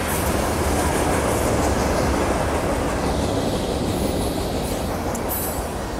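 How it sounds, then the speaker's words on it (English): A train rumbles past close by at Emeryville, a loud continuous roar of wheels on rails with faint metallic squeals, steady throughout. "Look at that train going towards Martinez."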